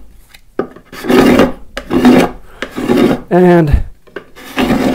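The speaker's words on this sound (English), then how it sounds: "So then I just take the card scraper and scrape this off." A card scraper rasps across the wood of a flower planter in several firm strokes, loud and near, separated by short pauses; a brief voiced sound and a spoken word break in between.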